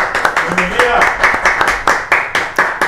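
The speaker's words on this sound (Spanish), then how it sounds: "a quien recibimos con un fuerte aplauso" An audience at a conference on property rights applauding to welcome a guest speaker, with rapid, close claps running steadily from start to finish.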